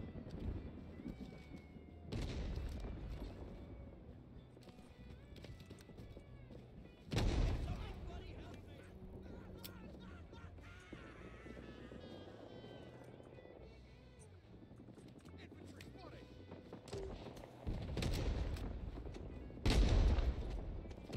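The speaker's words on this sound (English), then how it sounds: "Enemy machine gunner." Enemy machine gun fire in the Vietnam War shooter game Rising Storm: Vietnam, with repeated bursts of gunfire and battle noise spread across the scene, several loud close bursts standing out over a busy combat background.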